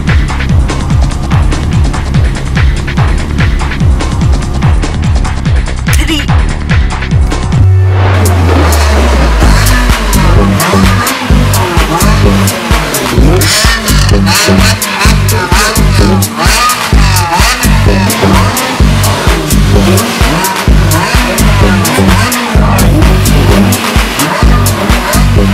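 A Nissan GT-R engine revs hard and loud close by at a drift event, its steady idle giving way to rapid throttle blips and roaring bursts with tyre squeal mixed in, continuing without pause.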